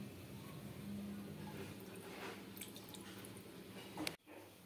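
Water being poured into a wok on a gas stove for making rice-flour pulli pitha, a soft steady liquid wash with faint dripping, ending in a brief clunk.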